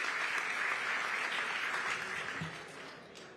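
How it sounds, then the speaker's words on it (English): A crowd at a CUNY education event applauds New York Mayor Eric Adams with a brief burst of steady clapping that starts full and then thins and fades out over a few seconds. "give a big, big round of applause to CUNY's Mayor, Eric Adams"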